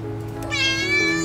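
A stray kitten meows insistently near a computer shop, one clear high, wavering cry that rises and stretches out over a steady low hum.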